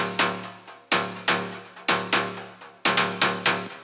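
The main synth preset of a layered melodic techno step, made in FL Studio, plays on its own. It is a loud, bright plucky stab repeating in a steady syncopated rhythm, and each note fades out fast.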